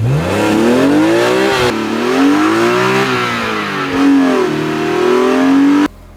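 A BMW E46 M3 strapped onto a makeshift dyno revs hard near top speed, its engine note loud and sustained with slight rises and dips in pitch before cutting off abruptly near the end.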